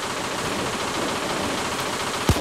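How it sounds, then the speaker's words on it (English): A machine gun fires a sustained, dense automatic burst in Payday 2, loud and continuous with no pauses, ending with a short sharp thump. "But they're fucking right next to this fucking machine gun here."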